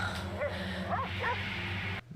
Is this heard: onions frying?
no